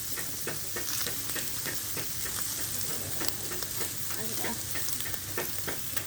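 Meat sizzling and frying on a Thai mu kratha grill pan, a steady dense crackle with scattered sharp pops throughout, close and fairly loud, with no talking.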